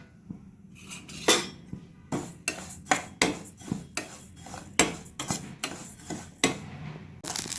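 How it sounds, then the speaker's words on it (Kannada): Dry cumin seeds, about 100 grams, are roasted and stirred in a pan on a stove, with a metal spoon scraping and clinking in a steady run of sharp strokes, close and clear with no voices. "ಇದು 100 ಗ್ರಾಮ್ ಇದೆ ಜೀರಿಗೆ. ಇದನ್ನು ಫಸ್ಟ್ ನೀಟಾಗಿ ಹುರ್ಕೊಳ್ಳೋಣ."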